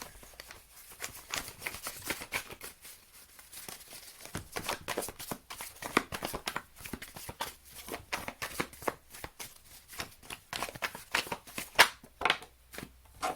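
Tarot cards being shuffled and drawn, a rapid series of crisp riffling flutters and snaps in irregular bursts, close and clear, with no talk.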